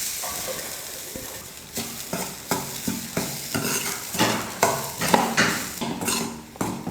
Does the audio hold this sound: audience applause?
no